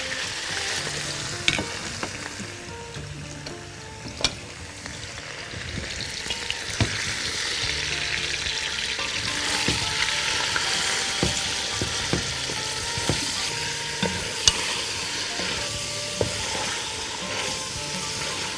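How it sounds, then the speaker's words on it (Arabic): Chicken pieces frying in hot ghee and oil for chicken rice with chickpeas, producing a strong, steady close sizzle punctuated by spatula taps and scrapes across the pan, with no talking. "السمنة والزيت عندنا خلاص سخنوا، هناخد الفراخ اللي عندنا ونحطها هنا"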